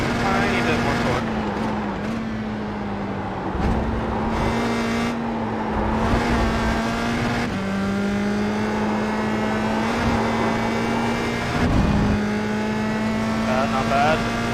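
A USF2000 open-wheel race car in iRacing holds fifth gear climbing uphill at Spa, its engine droning steadily at high revs with brief dips and upshift-like breaks, loud and close, while someone talks over it.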